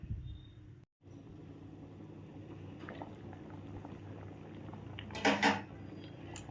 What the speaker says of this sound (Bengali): দেখো ডালটা দেখেছো কি সুন্দর ফুটছে।